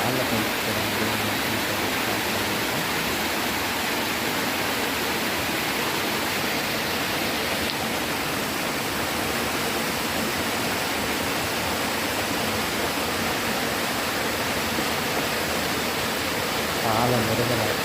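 A waterfall at a hillside Shiva shrine roars as a steady, broad rush of falling water that holds evenly throughout, with faint sounds of talk mixed in.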